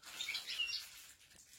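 A tame lovebird being weaned gives quick, high calls and chirps close by over a soft background hiss.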